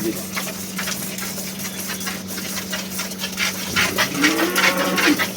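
A khalia milking cow at a dairy sale farm moos a few times toward the end, mid-distance, over a constant electrical hum and busy farm background noise.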